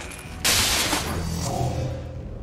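A sudden loud blast bursts from an explosion in the XCOM: Chimera Squad video game, followed by a rumbling decaying tail that fades over the next two seconds.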